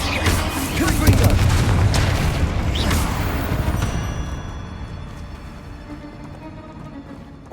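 Confringo fire blast spell in Hogwarts Legacy, a heavy booming burst with crackling impacts that rolls into a long, slowly fading rumble.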